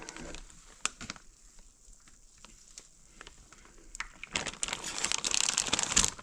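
A whole chicken is dropped into a plastic bag of brine, with quiet rustling at first, then a loud splashing, crinkling swell of liquid and plastic near the end.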